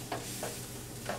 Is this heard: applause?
no